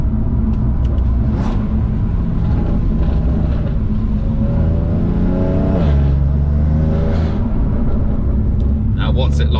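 A BMW M3 Competition Package tuned past 520 bhp drives with its engine roaring loudly, a steady deep rumble that climbs in pitch as it accelerates, heard from inside the cabin under continuous talk.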